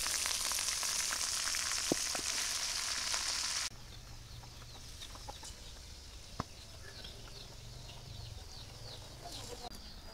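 Greens dropped into a hot pan with browned onion, garlic and green chili give a loud steady sizzle that falls suddenly to a softer frying hiss, with a few sharp clinks and a chicken clucking faintly in the background.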